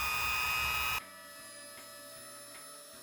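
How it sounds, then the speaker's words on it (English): A Dremel rotary tool trimming a Marvel Legends action figure part: a loud high whine for the first second cuts off sharply, leaving a quieter steady electric hum with faint periodic ticks, no talking. "A little bit of fitting done with the Dremel."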